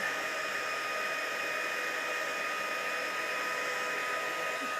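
A heat embossing tool blows hot air onto cardstock in a continuous, steady whirring hiss, close and unbroken, with no talking.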